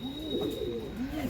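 Andhra line racing pigeons coo in soft, low rolling phrases, two swelling calls close by over a steady faint background hum.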